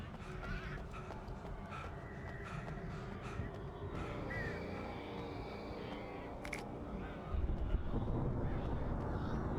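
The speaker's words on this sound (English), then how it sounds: "What's with all the birds?" Crows caw from afar in an Alan Wake game scene, scattered harsh calls over a dense, rumbling ambient wash, fairly faint, with a louder thud near the end and no talking.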